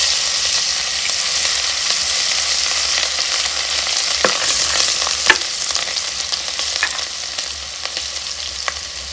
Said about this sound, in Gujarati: જો તેલ ગરમ થઈ ગયું તો આપણે રાઈ નાખી દેવી.